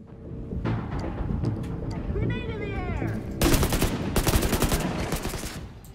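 Gunfire in The Division 2 video game: bursts of rapid automatic rifle shots, loud and close, sharpening into dense crackling volleys in the second half, with a player talking over parts of the action.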